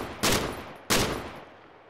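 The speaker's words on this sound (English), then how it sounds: "Looks like we traded shots" Two sharp gunshots from the Arma 3 video game, about two-thirds of a second apart, each a loud broadband crack with a short decaying tail, with no talk over them.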